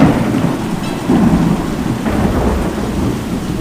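A strong thunderstorm with heavy rain pours steadily and loudly, with deep rumbling thunder rolling underneath and swelling around the midpoint. No voices are heard.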